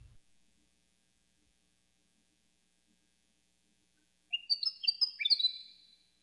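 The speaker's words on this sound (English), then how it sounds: "you'll enjoy these really loving animations of the sound that birds make" Birdsong set to an animation, a short bright series of quick chirps and whistled notes after several seconds of near silence, clear and close.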